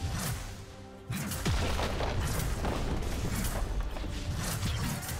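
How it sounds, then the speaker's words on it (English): In League of Legends, loud booming impacts of a turret being destroyed are followed by a dense, continuous roar of game combat and crashing effects. "Red team's turret has been destroyed."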